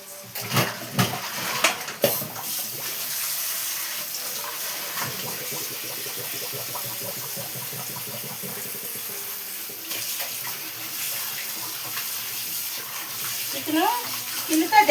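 Tap water runs steadily while raw skin-on chicken is washed in a kitchen sink, a continuous splashing hiss with occasional clatter, close and moderately loud, with a voice speaking over it.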